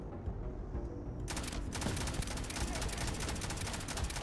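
Gunfire in Starfield: after a quieter start, rapid automatic shots begin and fire in a steady, dense burst lasting several seconds, close and loud.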